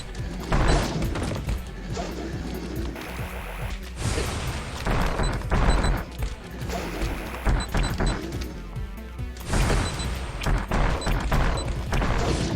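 Super missile shots in AM2R, a series of loud crashing blasts and thuds arriving in bursts with brief lulls between volleys, with faint game music underneath.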